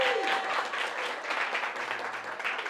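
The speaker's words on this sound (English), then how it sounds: "Round of applause for Win, everyone." Guests at a Brooklyn birthday party applaud a volunteer called up for a Rubik's Cube magic act. The clapping is soft and fairly distant, a steady patter from a small indoor group.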